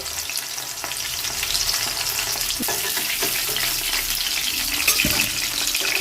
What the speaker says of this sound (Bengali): ইঁচড়গুলো তেলে ভাজা হবে বাকি তেলের মধ্যে দিয়ে দেওয়া হচ্ছে